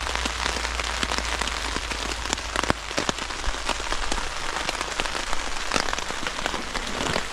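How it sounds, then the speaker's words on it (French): Light rain falls during a winter bivouac, a dense, continuous patter of drops striking nearby surfaces, with sharper individual taps scattered throughout and no voices. "il pleut. Il pleut un petit peu là."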